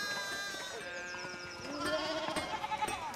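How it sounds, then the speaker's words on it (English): A sheep bleats in the video game Pentiment, a long wavering cry that rises and trembles over soft game background sound, with no talking. "Oh, hey, the sheep is still here."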